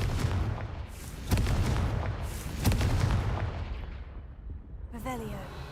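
Blasting-spell explosions go off in the video game Hogwarts Legacy, with two heavy booms about a second apart rumbling over a steady, dense game background that fades before a brief final burst of other game sound.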